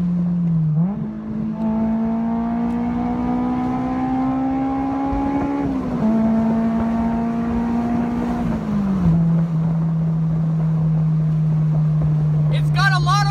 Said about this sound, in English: Downshifting under a tunnel.